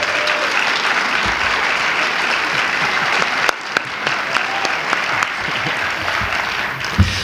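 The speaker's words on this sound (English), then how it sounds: "how about another round of applause for our soloist Joey Ignema and Zach Mueller" An audience at a high school winter band, choir and orchestra concert claps steadily, a dense sustained wash of applause with a few sharper individual claps standing out.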